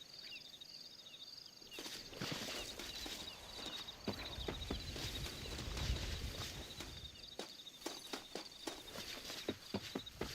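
Horse hooves clip-clop through a video game world in a steady walking rhythm, fairly close, over a constant insect-like chirping bed with no talk.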